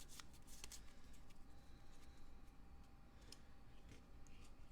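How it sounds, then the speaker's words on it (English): Board game cards for the Battlestar Galactica board game are shuffled close by, quiet crisp riffling flutters and taps repeating irregularly over a low background hum. "shuffled and piled into the leadership card area"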